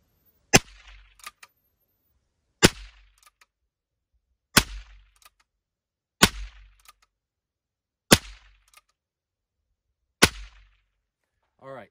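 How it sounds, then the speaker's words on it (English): Six sharp, loud revolver shots from a Heritage Tactical Rancher firing CCI short rounds, evenly spaced about two seconds apart, each with a brief ringing tail and no talk between them. "So I'm going to show you guys just a few shots here, what it sounds like from sort of the frontal perspective there."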